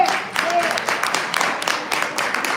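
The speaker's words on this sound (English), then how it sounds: "It really should have been a better clap" Applause from the audience at a village board meeting, a fairly brief and modest round of clapping at moderate level with scattered claps and some crowd murmur.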